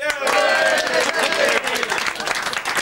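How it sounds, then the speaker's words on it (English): Studio audience clapping on a live British breakfast TV show, dense and sustained applause with voices mixed in throughout. "Let's clap it."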